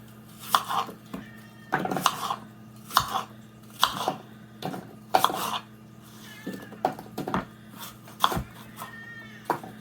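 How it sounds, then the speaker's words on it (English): A knife slices apples into bite-size pieces against a board, making a dozen or so crisp, close knocks in an uneven rhythm with quiet gaps between cuts. "we're just going to slice these into nice little slices that can be made into the monster mouths"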